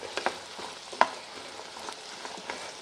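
A spiced mixture is stirred in a pan, giving a low steady sizzle broken by a few scattered scrapes and light knocks of the spoon, quiet and close with no voices.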